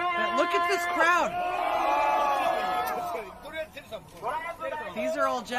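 A large crowd of Japanese Americans cheers and shouts together in loud, sustained bursts of voices, fading briefly into scattered calls before swelling again.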